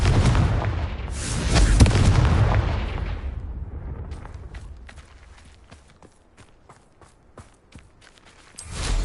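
A loud, broadband Confringo blasting-curse explosion in a Harry Potter game on PS4 booms up front and rolls off over several seconds, followed by scattered footsteps and small clatters before a second surge at the end.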